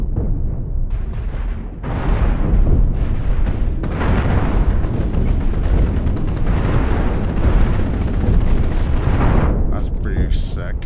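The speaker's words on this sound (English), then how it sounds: "Chain guns." Chain guns firing in the space combat game Cosmoteer, a dense, continuous barrage of booming, crackling shots loud throughout, with a voice speaking over it.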